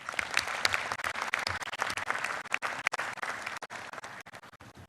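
Applause for Azerbaijan's leadership at a plenary session of senior officials: a hall of delegates clapping for about five seconds, dense at first and then thinning to scattered individual claps as it dies away.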